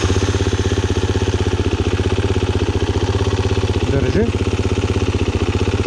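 A motorcycle engine idles steadily and close by in a wooded setting during pre-race repairs, a loud even chugging throughout. Brief speech occurs over it.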